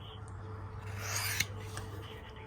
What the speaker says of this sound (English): Now we're just gonna hone it up a little bit.